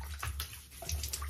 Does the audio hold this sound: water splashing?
yes